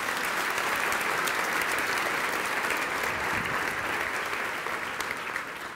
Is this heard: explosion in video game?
no